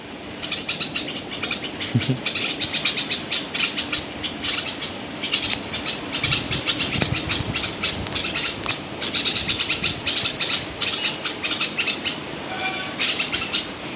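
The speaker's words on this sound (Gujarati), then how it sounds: "આ બપોરનો ટાઈમ છે અને આ એનું થાય એટલે આવી જાય ચકલી" Many house sparrows chirp busily in overlapping bursts at midday, sharp tweets scattered throughout over a constant rumbling background.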